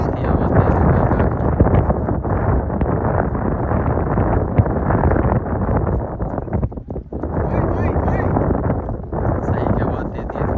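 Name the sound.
strong wind blowing while kite flying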